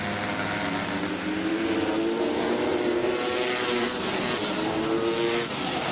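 KTM and Honda flat track motorcycles race at night in Ashland, Virginia, engines snarling and revving loudly as they pass close by, a continuous layered roar with shifting pitches.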